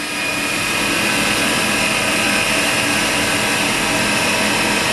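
Spindle of a Haas mini mill with 16 by 12 by 10 inch travel spins at high RPM, giving a loud, steady whine over a dense machine roar that holds constant throughout.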